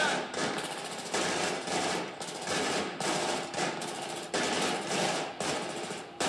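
Sustained machine gun fire in the video game Battlefield 3, loud rapid bursts with brief breaks between them, dense and continuous throughout.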